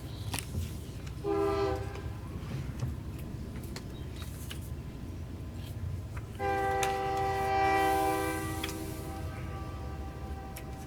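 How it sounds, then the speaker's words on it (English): A train passes near a city council meeting, its horn sounding two long blasts separated by a pause over a continuous low rumble of rail cars, loud and nearby with no talk. "We'll let the train go by before you start."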